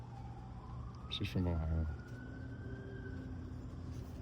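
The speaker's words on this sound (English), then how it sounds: "You hear that siren in the background?" Ambulance siren wailing faintly in the distance as it passes, a thin rising tone behind a quiet room, with someone speaking briefly over it.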